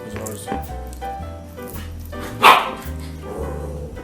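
Household dogs bark in a single loud, close outburst amid steady background music, with people talking around it.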